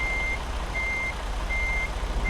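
Truck reversing alarm in American Truck Simulator while backing up to a trailer, a steady repeating beep over a low idling engine rumble.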